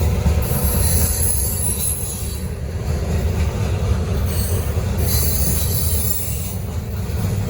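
Norfolk Southern NS 975, a heavy freight train of over 150 cars, rolls past close by with sustained high wheel squeal over a steady low rumble of cars; no talking.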